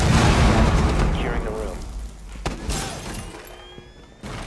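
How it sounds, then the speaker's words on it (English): A grenade goes off in a room in Rainbow Six Siege, a loud burst with shattering debris at the start, then a decaying rumble, sharp impacts and scattered clatter, with voices talking over it. "I'm gonna throw a grenade into that room"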